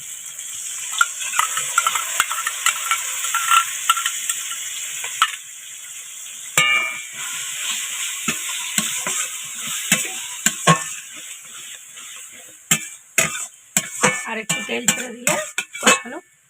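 Masala frying in a pan with beaten sour yogurt added and stirred in, a hissing sizzle under repeated clattering scrapes of a spoon against the pan, the strokes growing busier and sharper toward the end.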